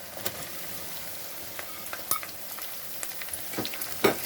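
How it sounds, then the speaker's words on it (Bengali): Continuous sizzle of onion frying in a pan, punctuated by scattered scraping and clinking as it is stirred; no talking. "দিয়ে আমি এটাকে ভালো করে পেঁয়াজটাকে ভেজে নেবো"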